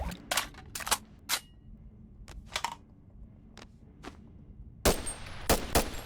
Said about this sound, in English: You can fire it fully automatic.